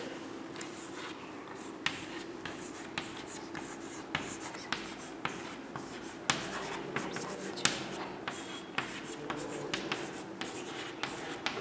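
Pen or pencil scratching steadily on paper while writing out a multiplication table, with small tapping strokes at a fairly even rhythm against a constant background hiss.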